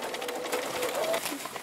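An embroidery sewing machine stitches along the bottom edge of a tote bag, giving a steady, close mechanical whir that runs unbroken through the clip.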